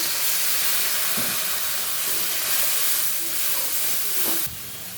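A little water is added to fried onions with chilli powder, turmeric and salt in a hot pan, producing a steady, close, hissing sizzle that holds for several seconds and drops off suddenly near the end, with no talking.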